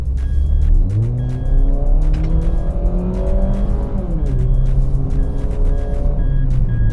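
A 2011 Mazda 2 1.5 Spirit Sport hatchback accelerates hard from inside the cabin, its loud engine revving up, dropping at a gear change, then climbing again in a steady, droning pull.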